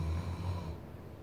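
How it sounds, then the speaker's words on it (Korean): A child's open-airway snore, one soft, faint, low rasping inhalation close by in a quiet room. "이거는 열린 코골이 소리예요."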